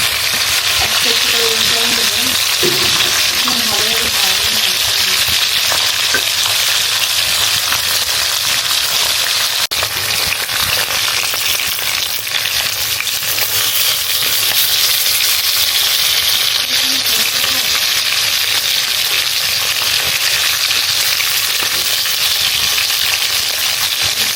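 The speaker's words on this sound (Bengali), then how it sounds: "মাছটা খুব সুন্দর করে উল্টাই দিলাম। এই পিস ভাজা হয়ে গেলে" A piece of fish fries in a pan with a loud, close, continuous sizzle and crackle that carries unbroken from start to finish.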